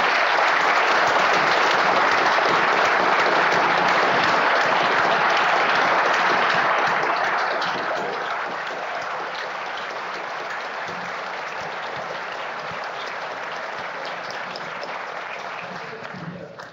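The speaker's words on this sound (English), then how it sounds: "We want to give them a special warm of applause." An audience at a conference closing session claps for the volunteers, sustained loud applause that eases to a softer, steady patter after several seconds.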